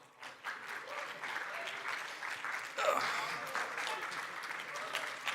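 A conference audience at Cosmoverse'23 gives a round of applause as panelists come on stage. The clapping is fairly soft and steady, with a few voices mixed in.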